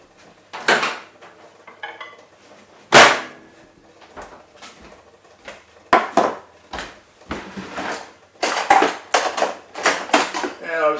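Someone rummages through a kitchen drawer of cutlery for a tablespoon, making sharp, irregular metallic clatters and clinks close by, with short bursts and pauses and a voice speaking in between.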